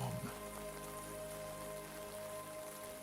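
Soft rain pattering gently against café windows, a faint, even hiss that stays steady throughout with no voices.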